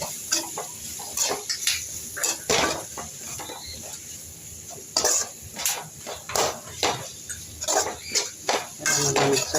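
Noodles and sausage get stirred and tossed in a pan, with repeated metallic scrapes and clanks of a utensil in a fairly rhythmic series, loud and close, and some faint background noise between strokes.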